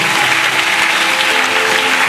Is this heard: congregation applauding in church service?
yes